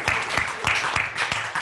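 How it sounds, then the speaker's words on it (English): An audience at a scientific seminar on trees and the critical zone claps together, a brief burst of steady, fairly close applause. "also just say thank you and we'll clap."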